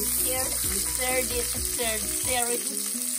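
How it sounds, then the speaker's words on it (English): Beef roast browning in cooking oil in a pot before going into a slow cooker, with a steady close sizzle and frying crackle throughout, under tonal music. "I put a little bit of cooking oil on the pot, and I brown it all sides before I put them on the slow cooker."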